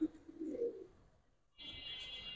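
Soft, low cooing from Giribaz high flyer pigeons in the first half, then a steady high hiss of background noise; quiet and somewhat distant.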